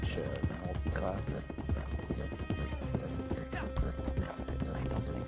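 Horse hooves clip-clop at a steady trot in the video game Red Dead Online, with an occasional whinny and game sounds, under someone talking throughout.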